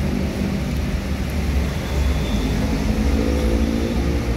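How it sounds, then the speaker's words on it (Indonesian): An MPM SR3 Panorama bus rolls into the Alang-Alang Lebar terminal, a steady loud engine rumble with broadband road noise throughout, no clear changes in pace. "Oleh bus MPM SR3 Panorama memasukin terminal Alang-Alang Lebar."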